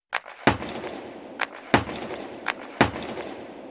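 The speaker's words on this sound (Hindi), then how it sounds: "गोलियां चलानी शुरू कर दी।" Sharp gunfire cracks ring out as police fire into the air to control a crowd. About five loud, separated shots come over a continuous noisy crowd background, with no clear talk.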